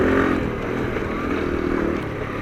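A motorcycle rolls slowly in a steady low gear across soft, loose shingle, its engine droning close and constant without revving up or down.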